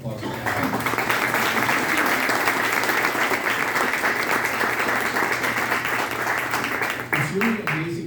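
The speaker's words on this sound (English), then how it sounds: "So again, please give a round of applause for Alex." An audience applauds at an opening ceremony for a public art installation in Fort Wayne, Indiana. The clapping is loud and sustained and fills the space, then tapers near the end.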